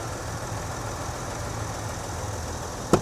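A van engine idles with a steady low rumble, followed by a brief sharp click near the end; the van has an intermittent noise from the driver's side engine area after a bad dealer repair.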